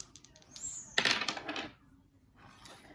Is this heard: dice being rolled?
yes